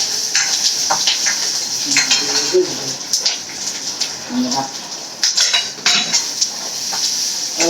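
Ginger and garlic sauté in a pan. A metal spoon scrapes and clinks against it in irregular strokes over a soft sizzle, with a faint voice in the background.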